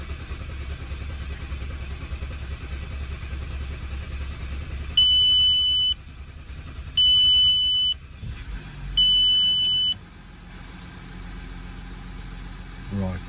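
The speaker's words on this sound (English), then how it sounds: "it's going to take a while for this car to start" An Audi A6 C6 diesel after swirl flap and manifold work hums at low idle while three evenly spaced dashboard warning beeps sound clearly over the engine drone.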